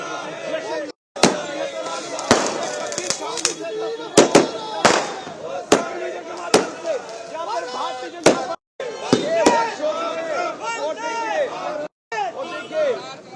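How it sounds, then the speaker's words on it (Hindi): Repeated sharp fireworks bangs and crackles burst at irregular intervals over a noisy crowd of chattering voices at a BJP celebration in Jammu. "आतिशबाजी हो रही है।"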